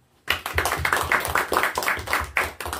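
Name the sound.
congregation clapping in church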